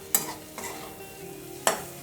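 Pasta is stirred as it fries in a pan for white sauce pasta: a low continuous sizzle under three sharp metallic scrapes of a utensil, the first and last the loudest.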